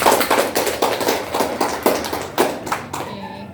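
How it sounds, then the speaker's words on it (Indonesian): A group claps in steady bursts, a short round of applause heard up close in a classroom after a group presentation, with a bit of background murmur. "Tepuk tangan untuk teman-temannya."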